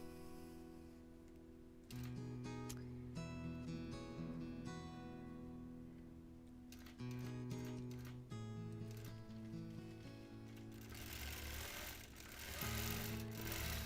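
A sewing machine does free motion quilting in steady, close, continuous runs, its motor whirring in long stretches that shift speed and pitch as it stitches.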